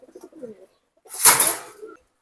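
Male pigeons kept in a cage give a short burst of cooing and wing-rustling at close range, preceded by a few soft, low murmuring notes and then trailing off into quiet.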